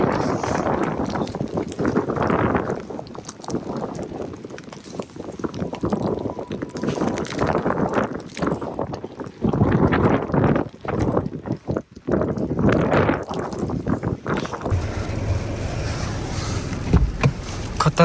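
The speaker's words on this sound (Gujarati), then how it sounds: "ખતરનાક પવન વધી ગયો" Strong, dangerous wind blowing outdoors on a snowy day, roaring and buffeting the microphone in loud gusts that surge and ease throughout, with rumbling low-end blasts and no clear talk.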